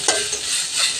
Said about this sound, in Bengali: এর মধ্যে দিয়ে দিচ্ছে মুগ ডাল, অল্প পরিমাণ মুগ ডাল। এটাকে ভালো করে ভেজে নিচ্ছে।